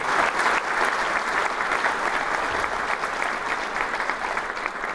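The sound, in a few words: audience round of applause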